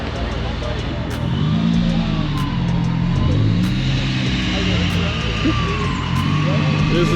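Engine drone from a supercharged Nissan Z car cruising on the road at a local car meet, a steady hum with some shifting pitch, heard from nearby while people talk.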